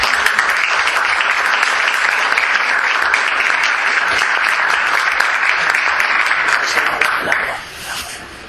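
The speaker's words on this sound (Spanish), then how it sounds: "Un aplauso." An audience at a talk on the roots of Jewish surnames gives a long, loud round of applause, dense and steady clapping that holds for several seconds before dropping off quickly near the end.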